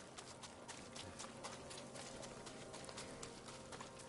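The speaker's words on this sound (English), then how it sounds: "There's my horse." Quick, steady clip-clop of hooves trotting along in the video game Ghost of Tsushima, with a muffled background bed beneath the rhythmic hoofbeats.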